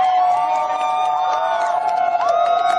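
A very large street crowd gathers on a voting day. Sustained loud cheering and whooping mix with high, wavering voices and shouts, continuous and close, filling the whole stretch without pause.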